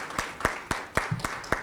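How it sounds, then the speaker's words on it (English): An audience applauds after a panel speech on African women in mining and agriculture, with a handful of sparse, evenly spaced claps rather than a full ovation, fairly close and clear. "A round of applause."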